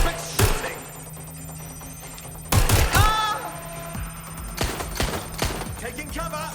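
Gunfire in the video game Watch Dogs Legion: several sharp bursts of shots at the start, in the middle and toward the end, with whirring game effects and a low hum in between.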